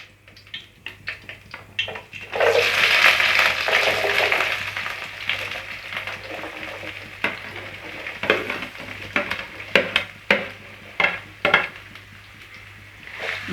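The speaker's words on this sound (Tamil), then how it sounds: "வெங்காயம் கொஞ்சம் நல்லா கோல்டன் ஃப்ரை ஆகிற வரைக்கும் நம்ம வதக்கி விட்டுப்போம்." Shallots sautéing with dried red chillies in a pan for chicken thokku, a dense sizzle swelling for a couple of seconds, then scattered sharp clinks and scrapes of a spoon against the pan, close and with no voices.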